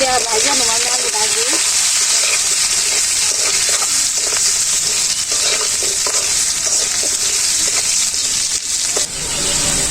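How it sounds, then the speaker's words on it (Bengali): Potatoes seasoned with salt and turmeric fry in a pan over a village cooking fire, giving a loud, steady sizzle with repeated stirring scrapes throughout; a voice is briefly heard near the start. "এই যে আমার আলু ভাজাটা হয়ে গেছে"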